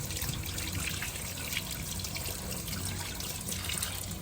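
Tap water running steadily over a tomato at a sink, a continuous faint splashing trickle with small drips, close by and without talk.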